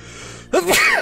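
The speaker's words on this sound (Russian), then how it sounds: "Сейчас чихну." A single loud human sneeze comes up close after a moment of low background hum, with a sharp intake and a forceful burst. No one speaks over it.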